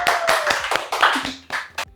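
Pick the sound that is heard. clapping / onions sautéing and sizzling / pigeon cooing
clapping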